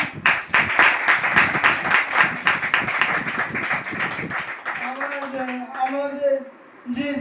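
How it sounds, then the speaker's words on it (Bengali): An audience at an RCM business meeting stands and claps loudly, a quick rhythmic run of sharp hand claps that fades after a few seconds as a voice takes over. "সবাই উঠে একবার জোরে হাততালি"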